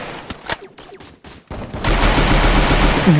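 Gunfire from the Free Fire video game: a few sharp separate shots early on, then a dense, loud sustained burst of rapid fire filling the rest, with no talking over it.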